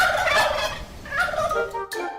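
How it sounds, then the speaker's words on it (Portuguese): A turkey lets out a series of loud, rapid gobbles in bursts, each with a rattling, warbling quality, before the sound cuts off abruptly near the end. "o glu glu glu glu dos perus é um instinto de resposta a possíveis rivais ou ameaças"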